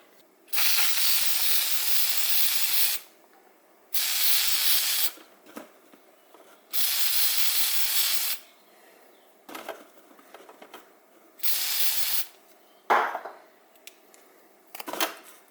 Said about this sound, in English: Put some spray on it.